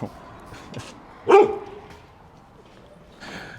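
A single dog bark rings out near the middle, fairly close, against a quiet background with faint rustling.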